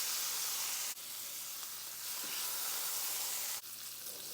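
Steaks sear in a hot pan with a crushed garlic clove and a sprig of thyme, giving a loud, steady, close sizzle broken by a couple of brief dips, with no voices.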